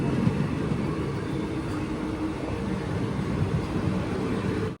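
Steady low rumble and clatter of the Kollam–Chennai Egmore Express rolling along the rails near a station, a continuous broad mechanical roar heard from on board without any voices.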